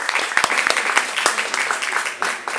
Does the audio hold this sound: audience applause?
yes